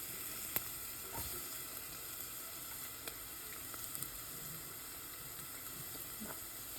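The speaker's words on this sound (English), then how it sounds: "I'm gonna add our garlic to this mix now" Garlic sizzling in a pan with meat, a steady close frying hiss with occasional small pops and the clink of stirring.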